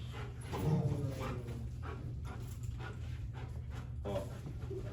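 A dog pants and whimpers close by during obedience training, with a short whining burst early and rhythmic breathy panting throughout, fairly quiet overall.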